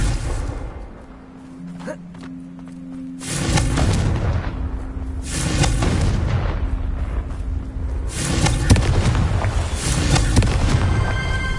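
Explosive spell blasts from a Harry Potter video game, booming impacts roughly every few seconds over a steady rumbling game background, loud and close.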